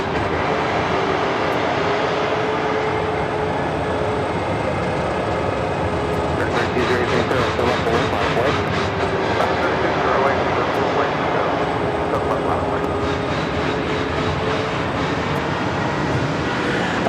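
A Southwest Airlines Boeing 737-700 arriving at Phoenix from Austin, its jet roar steady and fairly loud, with faint voices underneath and brief fluttering surges in the middle and near the end.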